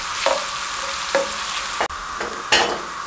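Chopped medium-sized onion fries in hot oil for mutton masala curry, giving a steady sizzle. Several sharp stirring scrapes come at intervals over the sizzle, close and clear, with no voice.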